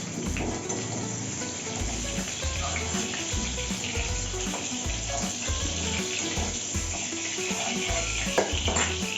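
Garlic hits hot oil in a home kitchen, the same oil just used for frying fritters for chilli chicken gravy, giving a continuous bright sizzle and crackle that stays fairly even throughout with no talking.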